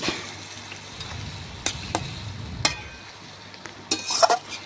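A spoon stirs mutton and potatoes in water inside a cooking pot, making a soft wet sloshing with several sharp clinks of metal against the pot. The sounds come close by and with no voices.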